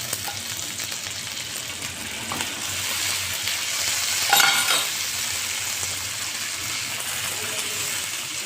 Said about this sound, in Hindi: अब ये मसाले को इसमें फ्राई कर लेंगे, बघार की तरह जब ये हो जाएगा तो फिर इसमें मसाले डालेंगे।